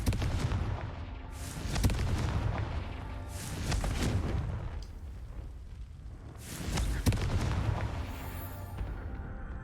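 Fire-blast spell bursts in Hogwarts Legacy, a series of loud, broad whooshing explosive blasts in rapid succession with brief gaps between them, set over a constant game soundscape.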